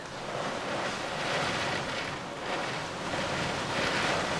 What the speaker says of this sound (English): It is pissing it down.